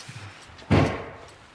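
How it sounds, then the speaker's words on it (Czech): A door slams once in a home, a single loud, close thud that rings out briefly and fades into quiet. "Bouchly dveře."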